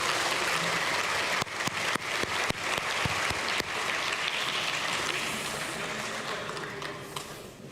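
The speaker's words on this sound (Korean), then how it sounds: "큰 박수 한번 부탁드립니다." Applause fills the chamber of Korea's National Assembly plenary session after a long filibuster, a dense sustained clapping with a few sharp louder claps early on, gradually tapering toward the end.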